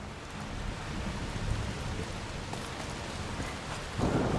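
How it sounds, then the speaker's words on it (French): Steady heavy rain with rolling thunder from a stormy scene in the video game A Plague Tale: Requiem, a continuous dense downpour that swells louder with a deeper rumble near the end, no voices. "Il pleut de plus en plus fort. C'est rien, c'est juste un orage."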